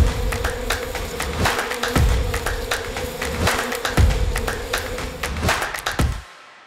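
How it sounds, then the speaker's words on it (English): A swarm of honeybees flies in spring among blackberry bushes, a dense continuous buzzing hum with insects passing close to the microphone, interrupted by a few soft thumps and taps, fading out abruptly at the end. "when they flurry like this all in the sky, that's them starting to swarm"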